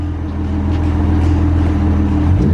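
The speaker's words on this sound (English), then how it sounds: "So Thomas, you can go ahead and give it some revs." A BMW E92 335i with the N54 twin-turbo engine and HKS blow-off valve, idling loud and close with a steady low rumble before the revs begin to climb at the end.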